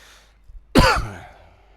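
A single harsh cough, close and abrupt, preceded by a couple of faint breaths and fading quickly into quiet.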